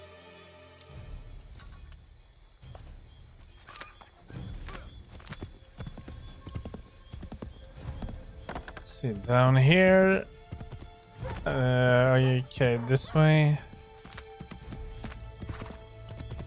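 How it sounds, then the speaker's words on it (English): A horse in the video game Assassin's Creed 3 Remastered clip-clops steadily at close range, with two loud whinnies partway through and brief spoken lines from a game character over the hoofbeats. "The horse riding is a little bit too clunky from what we've been used to lately in games."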